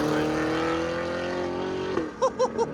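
Loud, continuous exhaust drone of a 2022 Cadillac CT5-V Blackwing running straight pipes with the muffler removed, holding steady at close range, then breaking into three quick rising revs near the end.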